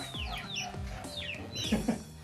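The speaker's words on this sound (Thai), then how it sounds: "นั่นไก่ป่านั่นน่ะไก่ป่า" Wild jungle fowl cluck and call in a forest, several close, clear sweeping calls in quick succession with a couple of sharper clucks near the end.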